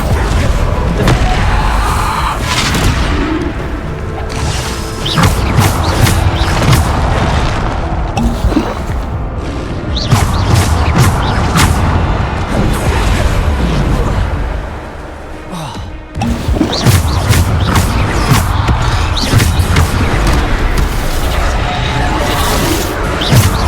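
The Bombarda spell in Hogwarts Legacy sets off repeated heavy booms and crashing blasts for the whole stretch, loud and close, with thuds, brief lulls and voices mixed in.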